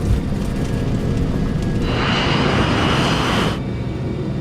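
A Nigeria Airways airliner's engines roar steadily during the takeoff roll, with the noise turning brighter and louder for a stretch in the middle before settling back to a constant heavy rumble.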